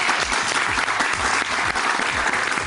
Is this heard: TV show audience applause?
yes